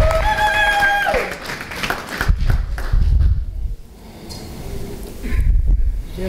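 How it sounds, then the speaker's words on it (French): Applause rises from a church congregation at a ceremony honouring women servants of God. Brief tonal sounds come first, then broad, uneven clapping and crowd noise swell and fade in waves. "Nous l'applaudissons au nom de Jésus."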